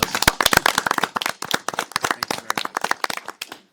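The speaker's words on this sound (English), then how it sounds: "Let's give him a round of applause." Scattered hand clapping from a small audience at a Gaithersburg mayor and council meeting, with uneven, sharp claps from a few people lasting several seconds.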